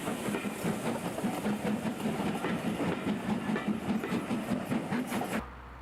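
The Jacobite steam train in Scotland rolls past close by, a loud steady clatter of wheels over rail joints with a rumbling chug that cuts off abruptly near the end.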